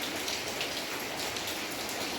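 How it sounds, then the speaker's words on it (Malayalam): Steady rain pours down outside, a dense, even hiss of falling drops with no voices, constant from start to finish. "പുറത്ത് മഴ പെയ്യുന്നുണ്ട്"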